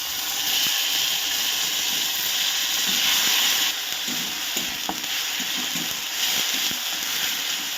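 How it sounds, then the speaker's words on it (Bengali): Onion paste sizzles steadily in a pan while frying for a Bengali-style katla fish kalia, with a constant loud hiss and occasional soft stirring scrapes. "ভালো করে কষে নিতে হবে পেঁয়াজ বাটাটাকে"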